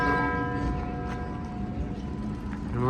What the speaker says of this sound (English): You can hear the bells of the Red House chiming over the city of Copenhagen